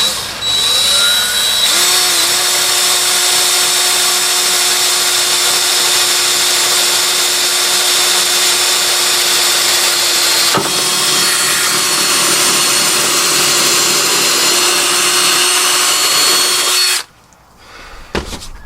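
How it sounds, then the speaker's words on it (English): A power drill bores a small hole up through the floor of a four-season camper van, producing a loud, steady high whine that holds for about fifteen seconds before cutting off abruptly near the end. "So we'll drill a small hole up to make sure we're dead on"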